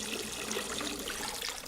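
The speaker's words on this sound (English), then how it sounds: "Still peeing in the water." A steady, fizzing trickle of someone urinating into water, continuous and fairly close, with no talk over it.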